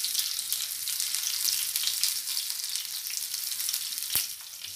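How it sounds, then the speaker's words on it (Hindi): Brinjal (eggplant) slices frying in hot oil in a pan, a dense continuous sizzle with crackling spatter and one sharp clink partway through. "ये बैगन हमने डाल दिया, बहुत अच्छे से फ्राई होते हैं इसमें।"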